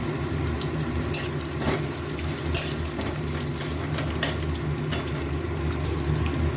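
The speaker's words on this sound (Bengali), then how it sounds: "পেঁয়াজ কুচো দিয়েই করছি" Chopped onion frying in a pan for a lentil dish, a continuous close sizzle with a low rumble beneath and occasional sharp crackles and pops, no one speaking.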